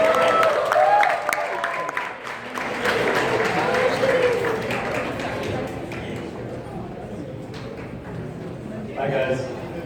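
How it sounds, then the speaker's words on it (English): A crowd at a YouTube FanFest creator stage event claps and cheers loudly for arriving performers, a steady wash of applause with voices talking and calling out over it, easing slightly toward the end. "Please give a warm round of applause for Chris Cantada, Matt Steffanina, and Nicole."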